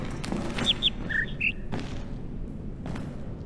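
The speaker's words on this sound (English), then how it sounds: "You can hear the birds from here, too." Birds chirp in the video game The Witness, a handful of short, clear tweets around the first second and a half, set over a low, steady ambient rumble with soft thuds.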